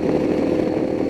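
A modified Royal Enfield Himalayan motorcycle with an aftermarket exhaust runs nearby, its engine giving a steady, loud, buzzing drone without pauses.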